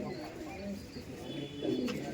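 Low rolling coos from a group of four laldom pigeons, near and fairly soft, recur across a couple of seconds, with faint voices murmuring in the background.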